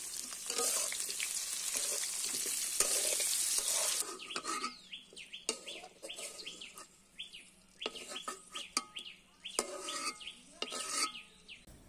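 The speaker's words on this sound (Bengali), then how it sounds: "আলুগুলো ভেজে নিচ্ছি।" Cut potatoes frying in oil in a kadai, a loud dense sizzle for the first few seconds that then drops to softer crackling with stirring clatter, while birds chirp repeatedly nearby in the background.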